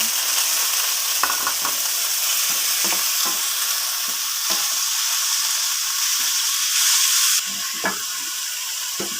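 Chicken hits a hot pan and sizzles loudly and close, a steady hiss with a few clinks and stirring scrapes, and no talk.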